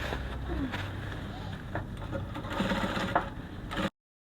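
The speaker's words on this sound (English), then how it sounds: "you take to your machine, you sew it all the way down to the hemline" A sewing machine runs a kaftan seam down toward the hemline, a continuous moderate whir lasting about four seconds at close range, then cutting off abruptly.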